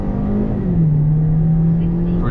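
A Hyundai Elantra 2.0 with automatic transmission pulls hard from a standstill, its engine note rising steadily and loud and close, then holding a sustained drone through the run, with a brief higher whine near the end.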